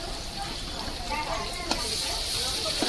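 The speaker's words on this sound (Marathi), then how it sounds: "बेडगी मिरच्या घेतल्या आणि कढीपत्ता आणि जिरा मोहरी ह्याची वरून डबल फोडणी देणार." Tadka of jeera, mustard seeds, curry leaves and Byadgi chillies sizzling in hot oil for dal khichdi, a steady hissing fry with faint stirring clicks.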